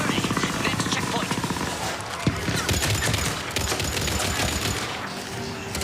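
Dense, sustained weapon fire from Mass Effect 3 keeps up a constant loud crackle for the whole stretch, with a single sharper blast near the middle and voices mixed into the background.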